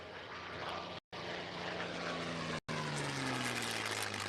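A Grumman F8F Bearcat propeller fighter plane flies past at an airshow at McMinnville Airport, Oregon. Its engine gives a loud, steady droning roar with a falling pitch as it passes, and two brief dropouts break the sound.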